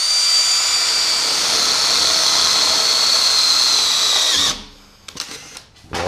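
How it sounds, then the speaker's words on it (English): A power drill boring a small pilot hole in sheet metal for a tube chassis front end, a loud steady whine that holds for about four and a half seconds, then cuts off, followed by a few faint clicks and handling noises. "Let's me drill a small pilot."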